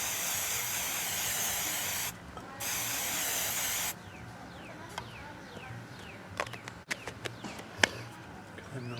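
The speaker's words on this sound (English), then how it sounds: "I'm gonna go ahead and take my hairspray and spread the other one." Hairspray from an aerosol can hissing in two steady bursts, the second longer, close by, followed by quieter faint clicks and rustles.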